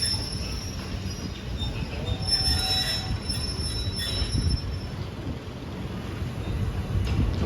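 A train pulling into a station in Bangkok, wheels squealing in long high-pitched screeches over a loud continuous rumble of rolling railcars, close by.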